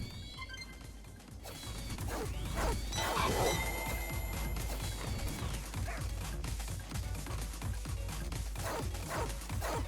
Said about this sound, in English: The sound of a dog.